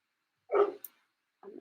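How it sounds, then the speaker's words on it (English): A dog barks indoors: one short close bark followed by a quieter second yip after a pause. "Sorry, Walter's barking."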